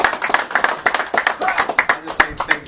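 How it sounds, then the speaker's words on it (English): A small press-conference audience claps for boxer Charles Vanderbilt at Club Bleecker Street in New York, a short burst of close, distinct individual handclaps, uneven and fairly loud, with some voices mixed in. "I want you to give a big round of applause for my nephew,"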